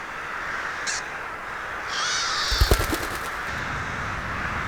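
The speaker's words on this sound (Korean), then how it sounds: "까마귀 떼는 크게 소리를 질러 수리 부엉이조차 겁먹게 만든다." A flock of crows calling in a bamboo forest, harsh caws and a brief burst of cawing, moderately loud over a steady outdoor background hiss.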